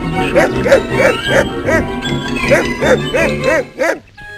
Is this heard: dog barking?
yes